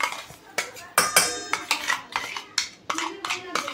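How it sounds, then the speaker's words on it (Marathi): Coarse moong dal paste scraped out of a grinder jar into a bowl with a metal spoon, making a quick series of sharp clanks and scrapes against metal at close range. "आता एका बाउलमध्ये काढून घेऊ सगळी."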